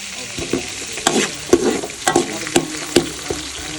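Onions sizzle in hot oil in a pan as they brown, stirred with a series of regular scraping strokes at close range, the frying hiss running steadily between them, and no one speaking.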